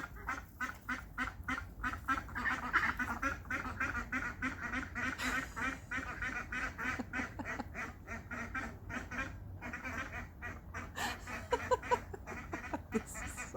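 A group of ducks near their duck house quacks continuously and loudly at close range, with rapid overlapping calls forming a dense, steady chorus throughout.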